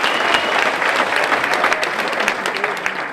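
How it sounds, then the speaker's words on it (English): Sustained audience applause at a motivational public lecture, a dense, even wash of clapping that carries steadily from start to end without pause. "Give another round of applause"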